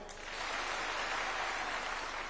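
An audience applauds village elders at a gathering, a steady, even wash of clapping that swells quickly and holds for a couple of seconds.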